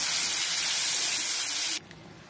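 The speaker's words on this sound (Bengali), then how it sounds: "আমার ঝোলটা দেখো ফুটে গেছে" A pot of Bengali fish curry with bottle gourd and potato boils steadily on the stove, giving a loud, even hiss that runs alone for nearly two seconds before cutting off to near quiet.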